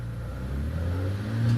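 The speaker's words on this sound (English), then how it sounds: "much modified, making all the right straight six E-Type noises." Modified 4.2 litre Jaguar E-Type straight six at a Prescott hillclimb, a steady, loud, low engine drone that builds slightly as the car pulls away, with no talk.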